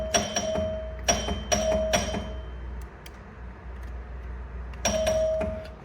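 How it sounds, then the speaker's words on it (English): A single working chime on a Williams Little Chief pinball machine strikes repeatedly, in bright bell-like dings with mechanical clicks and quieter gaps between them. "One of the chimes works."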